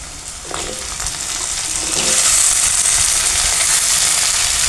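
Spring onion stalks and potatoes fry in hot oil, giving a loud, steady sizzle that builds slightly and continues throughout, with occasional stirring noises and no talking.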